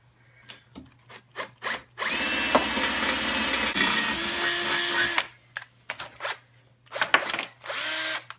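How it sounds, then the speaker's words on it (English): Power drill boring a hole in metal on a C10 truck turbo exhaust build, with several short bursts, then a long sustained whining drill run and a few more bursts, close and loud. "So I'm just gonna drill a hole and then use a step bit"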